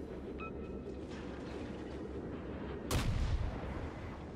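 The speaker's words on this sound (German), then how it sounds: "Der schießt aber in richtig vielen Salven, ne?" A warship gun salvo in World of Warships lands as one loud, close, booming blast near the end, over a constant low engine and ocean rumble.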